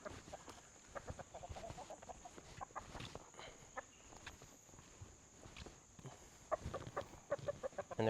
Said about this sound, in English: Rooster's behaving.